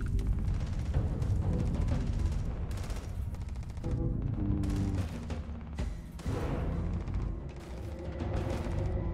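Gunfire in the space game Starfield: loud, dense bursts of shots and booming impacts that keep up almost nonstop, with no talk over them.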